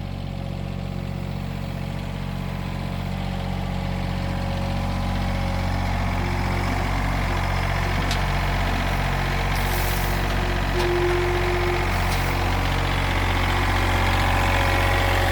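A diesel tractor engine idles with a steady low throb that holds constant throughout, close up and without speech.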